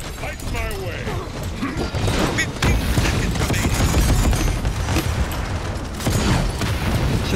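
Rapid bursts of cannon-like gunfire in a Paladins game battle, a dense rolling volley of booms and mechanical clatter, loud and continuous throughout.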